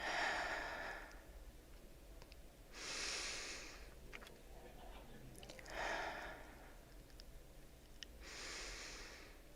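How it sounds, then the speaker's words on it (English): Three slow, deep breaths drawn in and let out, each a soft airy swell at an even pace, faint and close. "Take 3 deep breaths."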